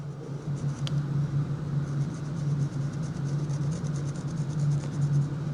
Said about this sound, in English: I'm going to slowly slide this all the way around while holding my pencil in place.